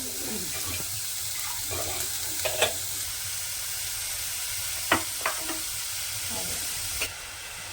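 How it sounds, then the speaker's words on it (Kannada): Onions frying until golden in a pan for drumstick (nugge kayi) palya, a steady sizzle with a few sharp clicks of stirring, close and alone. "ಫ್ರೈ ಮಾಡ್ಕೋಬೇಕು, ಸ್ವಲ್ಪ ಗೋಲ್ಡನ್ ಫ್ರೈ ಹಾಕಬೇಕು."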